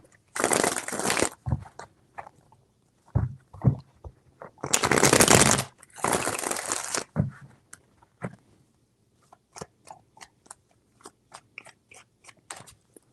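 Tarot cards being shuffled in three loud riffle bursts close to the microphone, separated by quieter taps and squaring of the deck, ending in a scatter of light card flicks and clicks.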